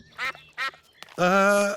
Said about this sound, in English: Why are we at the duck pond?